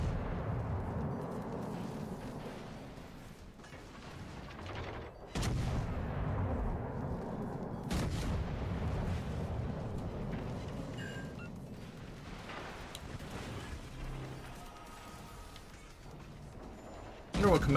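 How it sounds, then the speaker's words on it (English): An enemy warship's secondary guns fire in World of Warships: Legends, with irregular booming shots and mechanical clanks over a rumbling naval battle backdrop, with a few sharper, louder blasts standing out. "Oh no, his secondary starts still shooting."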